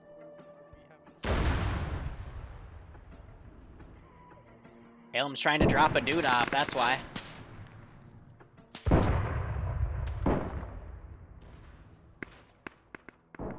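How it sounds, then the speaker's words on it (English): Cannons in a WW1 video game fire in several heavy booming blasts with rumbling tails and scattered distant shots, while a person talks over the action. "Cannon's firing again."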